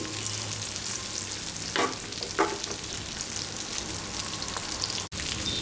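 Small fish frying in a pan of oil, a steady broadband sizzle running throughout with a couple of brief louder crackles and a short dropout near the end.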